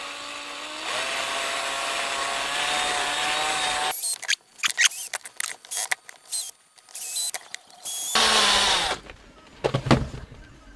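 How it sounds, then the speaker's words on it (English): A rivet is drilled out with a power drill: a steady whine for several seconds, then short, stuttering bursts of drilling that start and stop as the bit bites through. "Let me carefully drill that rivet out of there."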